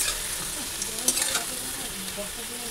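Eggplant slices coated in salt and turmeric fry in a pan with a steady, close sizzle and crackle and a few brief stirring scrapes, and no voices.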